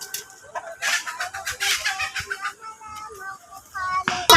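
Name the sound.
many chickens clucking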